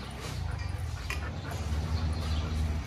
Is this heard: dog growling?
yes